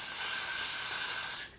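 Got2b glue spray hisses from an aerosol can in one continuous burst of about a second and a half, close and steady, then cuts off. No talk is heard.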